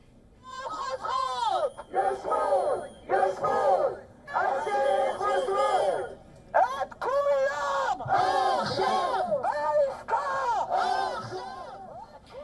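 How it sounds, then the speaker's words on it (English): A large crowd of protesters outside Israeli Prime Minister Benjamin Netanyahu's residence in Caesarea, chanting and shouting together in loud rhythmic bursts separated by short pauses, with whistles and crowd noise throughout. "a huge crowd of protesters gathered outside the Caesarea residence of Israeli Prime Minister Benjamin Netanyahu"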